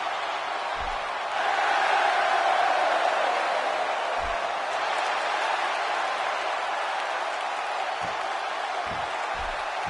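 A large virtual arena crowd in the WWE 2K16 wrestling game roars its support for Bret "the Hitman" Hart during a submission match, a steady broad wash of cheering that swells after a quiet start and holds at full volume with scattered low thuds.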